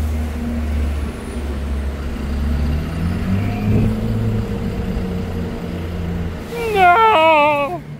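A grey Ferrari Enzo sports car in Monaco gives off a steady, deep engine rumble. Near the end a brief rising, wavering tonal whine cuts in above it. No one speaks.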